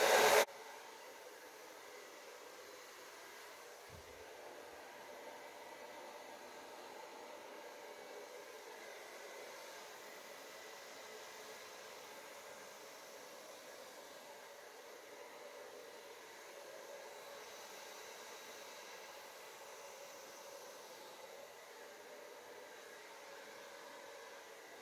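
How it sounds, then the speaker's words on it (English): A hair dryer blows steadily on its first, cool setting over a canvas during acrylic pour painting, an even whooshing hiss that runs unbroken after a brief click at the start. "My blow dryer is set on the first setting on cool air."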